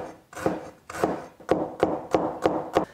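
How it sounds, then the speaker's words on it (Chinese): A knife slices ginger and garlic on a board in a home kitchen, with about seven distinct, fairly quiet chopping strokes that quicken into a steady rhythm. "姜蒜切片"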